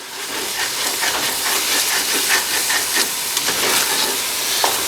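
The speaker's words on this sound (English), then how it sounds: "So I'm going to start adding my broth" Broth poured into a hot pan to deglaze French onion soup, a loud, dense hissing sizzle and steam with scattered scraping and bubbling, close up and sustained for the whole stretch, no voices.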